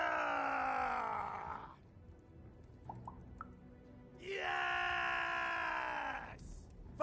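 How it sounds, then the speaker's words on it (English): Two long, loud screamed battle cries from video game characters, each a sustained strained yell lasting about two seconds, separated by a quieter gap with faint short sounds. "We need to scream so that our enemies know that we're here!"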